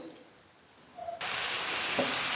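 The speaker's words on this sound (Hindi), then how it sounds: "हमने एक फ्राई पैन में ऑयल लिया, 2-4 खाने के चम्मच, और ये चिकन इसमें शामिल कर दिया" Boneless chicken hits hot oil in a frying pan, about two to four tablespoons, and a loud, steady sizzle suddenly bursts up and holds, close and continuous with no talking.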